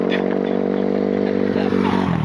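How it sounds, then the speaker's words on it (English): A motorcycle on the road drones past with a loud, steady engine hum that eases slightly toward the end, heard close by. "here comes an actual guy on a motorcycle"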